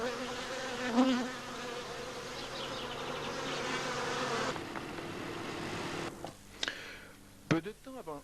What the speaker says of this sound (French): la reine quitte la ruche avec une partie de la population. C'est un essaim.